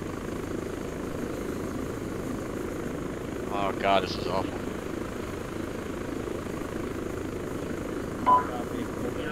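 A helicopter in the military shooter game Arma 3 gives a steady, droning rotor rumble throughout, while a few voices speak briefly over it.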